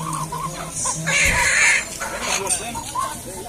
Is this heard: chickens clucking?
yes